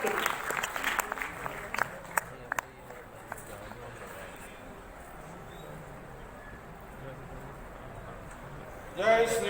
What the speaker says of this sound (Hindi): आपकी तालियां बजती रहे जब तक मंच पर आए।